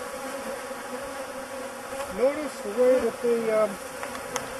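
Killer bees swarm around a person, their buzzing a steady drone with individual insects whining past up close as someone speaks briefly over them.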